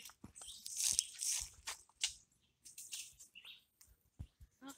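Small wild bird chirping outdoors during a bird hunt, short high tweets scattered among rustling and crunching noises, fairly faint and irregular.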